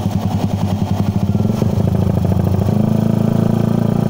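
Mio motorcycle with open pipe, carb, rim set and racing CDI, its small engine running steadily up close with a rough, throbbing exhaust rasp that rises slightly in pitch midway and holds.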